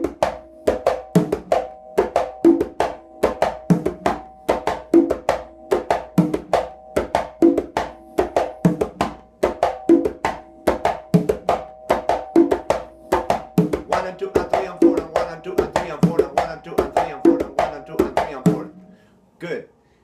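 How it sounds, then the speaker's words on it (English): Conga drums play a caballo rhythm, alternating open tones between the high and low drums in a steady, even pulse, close and crisp, with the strokes growing denser toward the end before stopping. "I could do an open tone on the high and then an open tone on the low, alternating."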